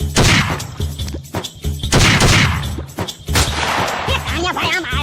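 Gunfire in a comedy skit: bursts of loud, sharp shots crackle in quick succession, mixed with shouting voices and clatter throughout the short scene.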